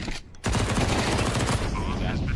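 MP9 SMG gunfire in a Counter-Strike match, a loud rapid automatic burst that fires continuously after a brief pause, with a commentator's voice underneath.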